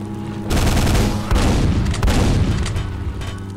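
Gunfire in Quake comes as loud, close bursts of rapid shots that merge into a dense, booming barrage. Brief pauses separate the volleys.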